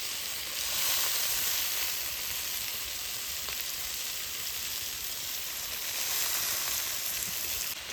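Mushrooms and potatoes fry together in a pan, giving a steady, close sizzle that holds an even level throughout with no voices.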